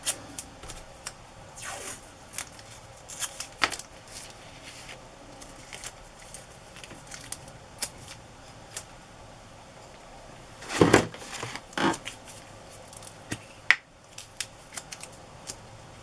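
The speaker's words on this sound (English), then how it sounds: "I'm trying to get the edge up on this paper tape." Paper tape being worked loose and peeled up from the spine fold of a vintage map journal page, heard as scattered soft scratches and one louder ripping burst near the middle, close and quiet.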